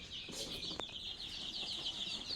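Sonali chickens on a poultry farm clucking softly, a faint layered chorus of chirps and clucks with one sharper peep, at a modest distance over a light background hiss.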